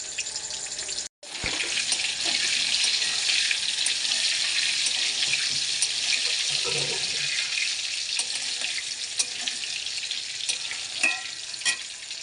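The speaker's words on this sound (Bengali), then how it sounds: "দেখুন কড়াতে আমি তেলটা গরম করে আলুগুলো দিয়ে দিয়েছি, ভেজে নেব।" Potatoes fry in hot oil in a kadai, a steady loud sizzle that runs almost without a break after a brief silence at the start.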